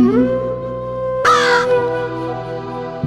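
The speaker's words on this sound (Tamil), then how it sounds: "காக்கா" Crow cawing once, loud and close, a single harsh burst rising over a steady tonal music bed with sustained notes.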